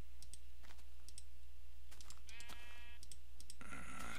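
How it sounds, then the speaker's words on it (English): Sheep bleating in the video game Minecraft, played in hardcore mode, heard as a few short wavering bleats over steady background hum and scattered keyboard clicks. "I hear sheep."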